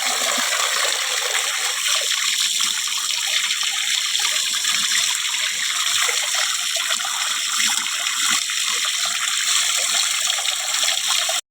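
Water pours and splashes steadily and close while Mithu is being bathed, a continuous unbroken rush.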